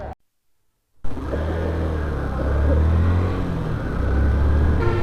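A car drives along a Bangladeshi highway after a brief silence, steady engine and road rumble rising slightly and holding, heard from inside the cabin.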